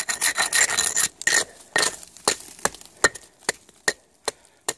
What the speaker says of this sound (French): Je m'arrange pour tout bien enlever la glace.